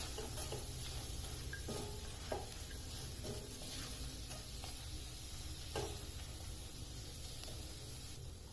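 Fenugreek thecha fries in oil in a pan on a gas stove, giving a steady, even sizzle throughout with occasional light stirring scrapes and no talk.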